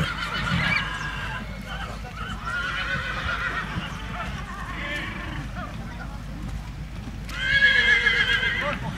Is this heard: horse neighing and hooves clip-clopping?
yes